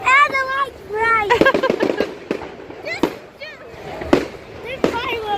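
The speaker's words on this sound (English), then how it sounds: "These fireworks are big," Bonfire night fireworks crackle and bang in rapid bursts, several sharp explosions overlapping with whistling effects, while people talk over the display.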